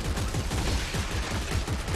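Sustained rapid gunfire in the sci-fi shooter video game Dead Space 3 during co-op play, a dense, loud, continuous burst of shots throughout with no pause.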